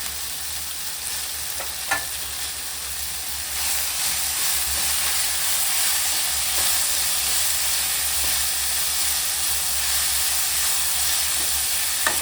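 Mint frying in oil for a traditional village-style Kannada sambar with field beans, egg and chicken, a steady close hiss and sizzle with occasional stirring clicks and pops, continuous and without talk.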